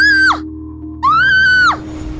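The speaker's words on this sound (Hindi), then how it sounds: "आंचल जोर से चीख पड़ी।" A woman screams in terror during a Hindi horror story: two long, loud, high-pitched shrieks close up, separated by a short quiet gap.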